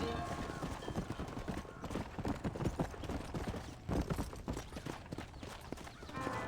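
Horse hooves clip-clop in Red Dead Redemption on a ranch, a brisk, close, uneven patter of several horses moving together, with occasional voices underneath.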